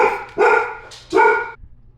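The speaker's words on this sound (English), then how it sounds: "sorry about that. That was Jazz, my dog" A pet dog barks twice indoors, loud and close, with two full-throated woofs in quick succession and no talking over them.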